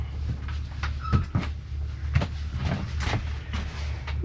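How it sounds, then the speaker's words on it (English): A door bumps shut indoors in a boathouse or workshop space, a few soft thuds and knocks over a steady low hum. "close that door."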